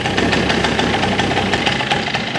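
A Yamaha BeeWee (BWS/Zuma 100 type) scooter engine idles steadily right after starting without throttle, a close, continuous buzzing rumble with an even throb throughout.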